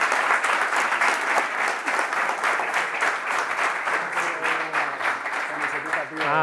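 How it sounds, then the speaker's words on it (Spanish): An audience applauds continuously for a footballer, a steady crackle of clapping with a voice talking over it toward the end. "un aplauso para Pedro"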